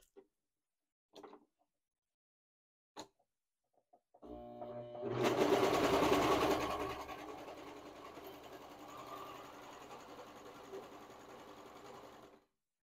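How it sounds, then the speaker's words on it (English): A serger sewing machine overlocks the edges of curtain fabric. A few light clicks come first, then the motor whirs up loudly and runs steadily and close for several seconds, easing slightly toward the end. "She's just serging the edges."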